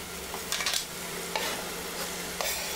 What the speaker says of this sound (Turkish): Kavrulmuş olan kıyma harcıma biberleri de ekliyorum ve kavurmaya devam ediyorum.